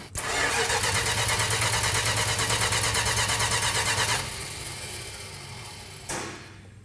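A 1968 Dodge Charger R/T V8 cranks loud and close without catching, its starter churning in a steady rapid rhythm for about four seconds, then stopping; a brief second burst follows near the end.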